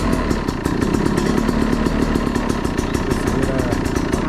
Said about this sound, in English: I'm just revving it a little bit just to warm it up